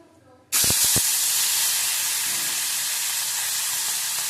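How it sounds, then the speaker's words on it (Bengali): Fish dropped into a pan of curry with whole green chillies bursts into a loud, sudden hiss after a few clunks, then settles into a steady, close sizzle that continues unbroken. "দেখো, এর মধ্যে মাছ দিয়ে দিলাম।"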